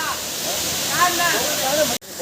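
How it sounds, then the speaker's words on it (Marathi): A waterfall at Gaonkhadi pours into a pool below, a steady, loud broadband rush of falling water that fills the whole stretch, with a faint voice briefly audible underneath before the sound cuts off near the end. "मस्त असा धबधबा आहे आणि खाली असा डव आहे"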